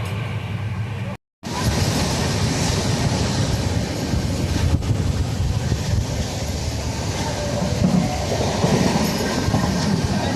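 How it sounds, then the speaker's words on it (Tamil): A sleeper coach train from Mumbai rolls along with a loud, steady rumble of wheels on rails, rhythmic clickety-clack and occasional squeal, heard from on board after a brief dropout near the start. "அதுவும் இது வந்து மும்பைலேருந்து வர வண்டி இது."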